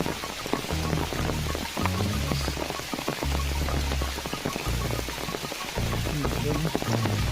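Heavy rain falls in the hills where cattle are being herded, a dense, steady patter of drops hitting surfaces close by, continuous and loud with low irregular thumps underneath.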